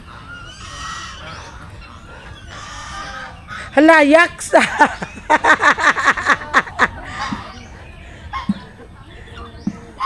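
Geese, turkeys and chickens at feeding time on a farm, with loud honking and squawking bird calls bursting out in a cluster near the middle, under and between people talking.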